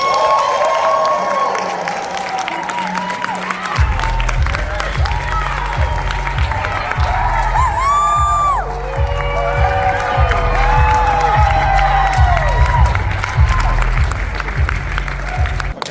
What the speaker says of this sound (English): can I get a big round of applause and a welcome